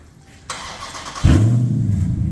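A Dodge Charger with no mufflers starts up: a brief starter whir, then the engine catches with a loud, raw exhaust bark and settles into a deep, rough idle close by.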